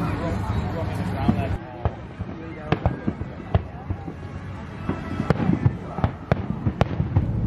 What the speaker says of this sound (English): Fireworks are going to start soon